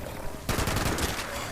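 Gunfire from a gun in the video game Fallout 76, a sudden dense burst of rapid shots that continues without pause, loud and close, after a short stretch of quieter game sound.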